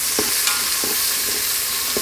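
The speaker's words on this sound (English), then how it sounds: "saute these onions up till they become really nice and translucent" Chopped whole onion sautéing in a soup pot for Zuppa Toscana: a steady broadband sizzle with a few brief scraping stirs at intervals, close and fairly loud, with no talking.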